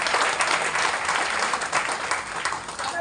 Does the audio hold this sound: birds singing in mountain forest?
no